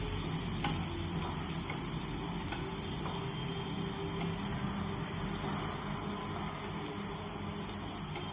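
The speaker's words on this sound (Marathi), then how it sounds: "आपण छान परतूया याच्यात" Onions, three in all, sautéing in a pan for a masoor curry, giving a steady, continuous sizzle and frying crackle that stays even from start to finish, close up with no talk.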